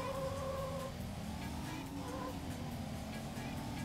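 Engine of a Porsche in the racing game Need for Speed Porsche Unleashed, a steady loud droning hum with rising and falling revving tones throughout.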